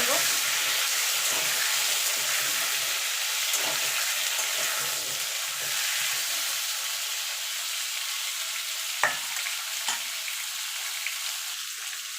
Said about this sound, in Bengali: আলু আর কুমড়োটা একটুখানি নেড়ে করে নেব